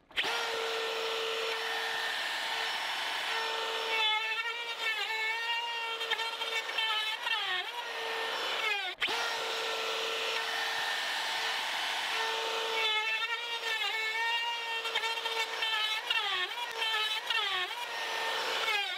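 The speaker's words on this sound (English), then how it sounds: "we're gonna run the router through here, which will give me a 3/4 inch deep groove" A router guided by a template cuts a three-quarter-inch-deep groove into a timber-frame post, a loud, steady high whine that bogs down with rising and falling pitch as it bites, then pauses briefly and resumes.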